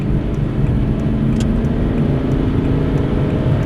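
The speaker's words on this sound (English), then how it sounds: "Full throttle, overtake on the right." An Aston Martin DB9 at full throttle while overtaking, a loud, close, continuous engine roar with dense low rumble and steady drive noise, no talking.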